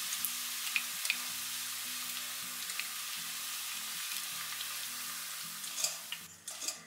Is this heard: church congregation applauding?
no